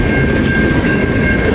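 A long train passing close by, a loud steady rumble of wheels on rail with a thin high metallic whine, continuous and alone.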